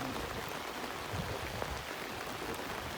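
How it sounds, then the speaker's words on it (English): Rain falls steadily during an outing fishing in spring, a soft, dense patter on surfaces heard as an even, continuous wash without talk. "Rain."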